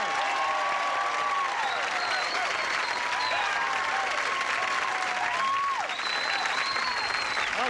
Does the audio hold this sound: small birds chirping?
no